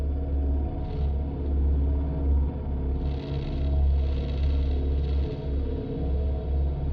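Omnisphere cinematic drone patch called Wanton Destruction from the Atomos soundbank: a dense, steady low rumbling texture with swelling hiss-like washes rising and falling above it, sustained throughout without talk.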